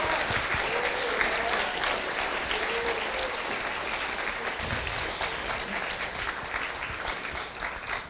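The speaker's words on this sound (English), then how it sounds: "And now let's give a huge round of applause to our panelists tonight" An audience at an opioid town hall meeting with Mayor Nancy Backus applauds the panelists, a sustained, even wash of many hands clapping at a moderate distance, with faint voices underneath.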